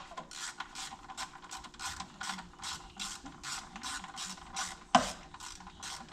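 A ratchet wrench tightens bolts on an engine timing cover of a 2004 Ford Escape 3.0, giving a quick, even run of close clicking strokes with a single sharp clack near the end.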